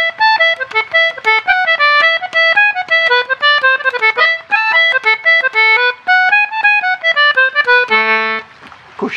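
A bright, close reed instrument plays the Athol Highlanders tune loudly in melodic minor, its quick notes in a lively jig rhythm with clear harmonics and no talk, before a final held chord and a short rustle.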